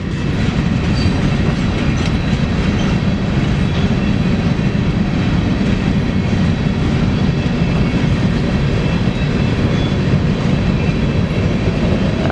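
BNSF Railway locomotive 6107 heads eastbound past Napa Street in Spokane, Washington, a loud, close, continuous rumble of engine and rolling wagons that holds steady throughout with faint rhythmic rail clatter.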